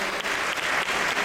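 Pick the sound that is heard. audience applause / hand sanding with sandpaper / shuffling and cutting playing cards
audience applause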